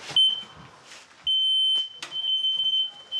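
A smoke-alarm-style alarm sounds in a bathroom, a loud piercing high beep that starts, cuts out briefly, then holds steady and close, with faint movement noises around it.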